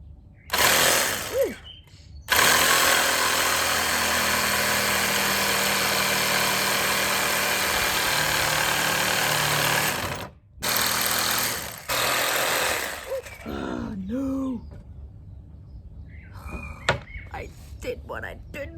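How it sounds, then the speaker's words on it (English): A jigsaw cuts notches in wood for a side table: a short burst, then two long, loud buzzing runs of the blade with a brief pause between, followed by a person talking and some handling noises. "I have my jigsaw out. I'm cutting out the little notches down here."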